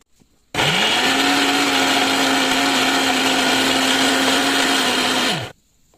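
A mixer grinder blends chutney ingredients: tomato, coriander, spinach, ginger, garlic and dried chilli. The loud motor whirrs at a steady high pitch for about five seconds, then cuts off abruptly into quiet.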